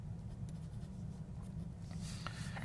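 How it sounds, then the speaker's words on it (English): Pen or pencil scratching out a math answer on paper, a soft continuous scribble close by over a low steady background hum, with no speech. "We can write it like this."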